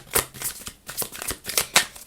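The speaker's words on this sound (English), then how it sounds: "I've shuffled the cards quite a bit" Tarot cards being shuffled by hand, a quick run of crisp riffling bursts and soft slaps repeating at an uneven rhythm, close and fairly quiet, with no talking.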